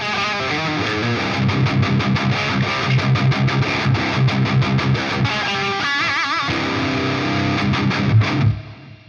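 An electric guitar through a ToneX Plug lead patch with delay and reverb plays a loud, continuous run of distorted notes with echoing repeats, ringing out and stopping abruptly near the end.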